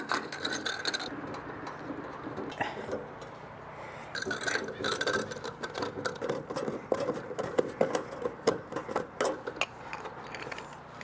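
A stainless steel band clamp is cranked tight on gas fireplace insert venting, giving a run of close, dry metallic clicks and ratcheting scrapes in uneven bursts, with no talking.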